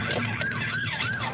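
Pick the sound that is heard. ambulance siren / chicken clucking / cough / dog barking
ambulance siren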